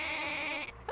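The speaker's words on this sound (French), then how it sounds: "Des moutons stéréo." Sheep bleating, a short, strained high-pitched bleat in a cartoon setting, loud and close, ending abruptly in under a second.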